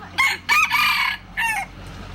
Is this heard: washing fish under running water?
no